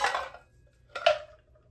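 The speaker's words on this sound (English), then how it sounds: "got a little ice here. I already chilled this glass" Ice cubes drop into a chilled cocktail glass while a whiskey sour is made, two short clattering bursts about a second apart, the second ending in a faint ringing tone of ice against glass.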